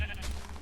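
Minecraft sheep bleating in the video game, a single short close bleat filling the brief moment with a low background hum beneath it.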